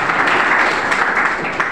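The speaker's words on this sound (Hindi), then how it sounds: "आपके लिए जोरदार तालियां" At a heart health awareness camp in Malad East, Mumbai, the gathered audience claps in a thick, even wash of applause, loud and close, with no pauses across the short stretch.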